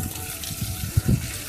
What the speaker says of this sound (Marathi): झाडांना पाणी द्यायला घरी आलेलं आहे